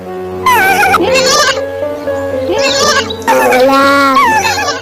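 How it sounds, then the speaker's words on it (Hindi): A lamb bleats loudly and repeatedly in long, wavering cries, with short pauses between calls, close and clear. "एक भूखे भेड़िए ने रोते हुए लैम्ब की आवाज सुनी"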